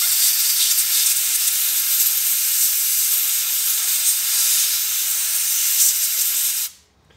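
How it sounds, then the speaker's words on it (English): A rubber-tipped compressed air blowgun blasts steadily into a greasy wheel bearing, a loud, continuous broadband hiss held for nearly seven seconds before cutting off abruptly. "the open end, I can blow compressed air. And so you want like a rubber tip blowgun or something like that."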